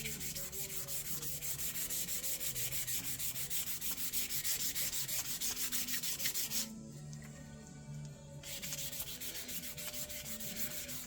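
Steady rubbing and buffing of the front forks of a Honda GL1000 Goldwing, continuous and close, with a brief pause in the scrubbing partway through before it resumes at the same pace.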